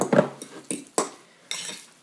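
Crumbled shrimp being mixed into avocado puree in a bowl, a few distinct clinks and scrapes of a utensil against the dish, close and sparse, with no talking.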